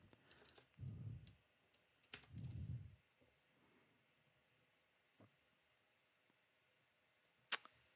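A few sparse clicks of typing on a computer keyboard, faint and brief, with quiet room tone and low thumps between the keystrokes.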